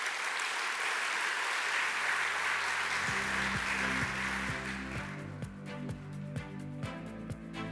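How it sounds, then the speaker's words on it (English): An audience at the Invest Jamaica 2022 conference applauds the Minister of Finance, a dense sustained clapping that fills the room before softening as steady music enters beneath it. "I think we can give the Minister of Finance and the Public Service another round of applause"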